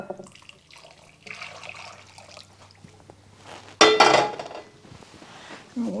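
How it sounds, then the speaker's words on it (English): Boiling water poured from a kettle into a bowl of strawberry jello mix, a quiet trickle and faint clinks followed by a brief, louder splashing gush near the end. "I'm going to add in 2 cups of boiling water"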